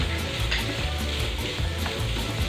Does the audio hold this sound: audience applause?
no